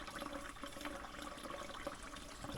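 Water pours steadily out at a mineral spring beside a creek, a continuous soft rushing and splashing that stays faint and even throughout, with no voices.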